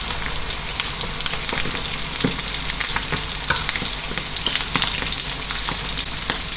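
Chicken pieces deep-frying in hot oil, a dense continuous sizzle with crackling pops and spits, close and steady throughout, no voices.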